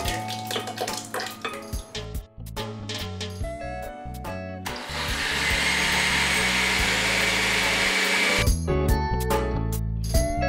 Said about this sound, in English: And that goes right into our blender.